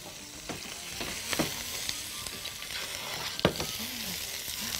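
Cubes of meat sauté in a hot pan with minced garlic, salt, pepper and spices for freekeh with meat, a steady close sizzle broken by scraping stirs and clinks of the spoon, with no voices.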